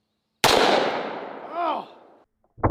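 Two rounds of .45 ACP fire off as one sharp, loud blast that rings out with a ragged tail for nearly two seconds, and a second burst cuts in at the very end.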